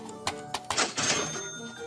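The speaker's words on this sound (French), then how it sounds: "Il suffit de manier la caisse enregistreuse" Cartoon cash register operated in an animated children's show: a quick series of sharp mechanical clicks and key clacks, then a bright, sustained ring as the drawer opens, close and clear with no voices.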